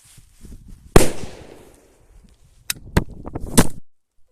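Trueno Especial No.6 El Gato firecrackers exploding outdoors, one loud close bang followed by a decaying rumble, then a quick burst of three sharp cracks after a short quiet gap.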